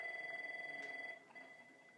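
A telephone rings with a steady electronic tone, fairly loud and close for about a second before dropping lower as it is turned down; no talking.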